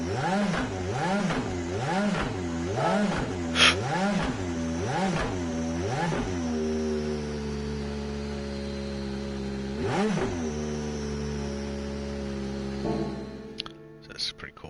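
Race car engine in Gran Turismo 7 revving in repeated rising-and-falling bursts, loud and close, then settling into a steady idle with one more sharp blip before fading out.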